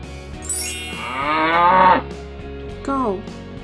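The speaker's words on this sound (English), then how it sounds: "Cow." Cow mooing in a children's animal-guessing game, two drawn-out calls close to the microphone: a long, loud moo followed by a shorter, softer one after a pause.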